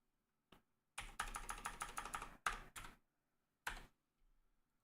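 Short bursts of clicking keystrokes on a computer keyboard, fast and rhythmic, in three or four clusters separated by quiet pauses, close and fairly quiet with no talking.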